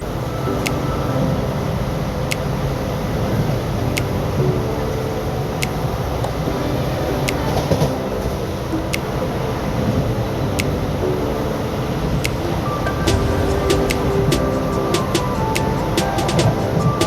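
A passenger train runs between Kannur and Kozhikode in Kerala, heard from inside the carriage as a steady, loud rumble with faint periodic clicks and clatters throughout, without talk.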